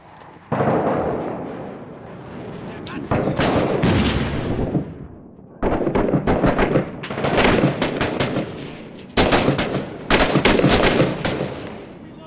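Gunfire in the military shooter game Six Days in Fallujah: loud, close bursts of automatic fire and single shots in several clusters, broken by short pauses, with no talking.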